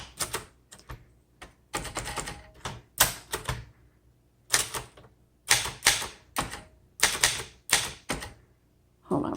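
Typing on a 1969 Royal Lark portable typewriter: bursts of sharp, clacking key strikes in uneven clusters, with brief pauses between runs, close and crisp throughout.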